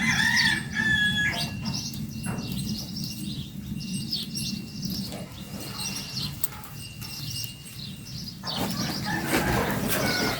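Chickens cluck and a rooster crows repeatedly outdoors in a rural Thai rice-farming village, the calls fairly close and steady over a constant low rumble of background noise, with no talking.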